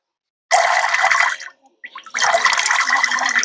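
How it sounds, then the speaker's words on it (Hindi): Water pours from an upturned vessel during a stage magic trick: two strong, splashing gushes separated by a short pause with a few trickles, close and loud. "पानी डाला, उल्टा कर दिया"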